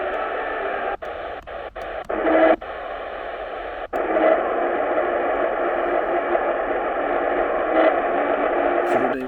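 Weak shortwave broadcast station tuned at 5955 kHz on a receiver, a steady hiss-laden signal with faint murmuring audio, broken early by several brief dropouts and clicks, then holding continuously at moderate level.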